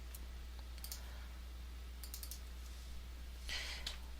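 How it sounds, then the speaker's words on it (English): A computer mouse clicks in faint, quick pairs, a double click and a few others, against a low steady electrical hum. "So I'll double click on the tiapp.xml file"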